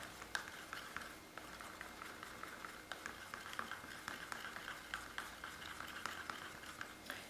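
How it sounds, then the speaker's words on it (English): Acrylic paint in cinnamon red being stirred with a few drops of water, giving a steady soft scraping and ticking texture with small repeated clicks, close and quiet, with no voices. "Add a few more drops of water and mix it."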